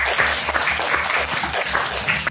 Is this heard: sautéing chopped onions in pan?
no